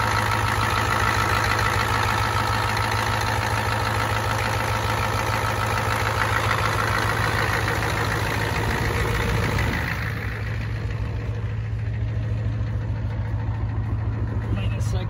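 A 1993 Ford F250 with the 7.3 IDI diesel engine idles after a cold start, a steady low rumble and clatter holding constant throughout; voices talk over it, and the sound thins slightly toward the end.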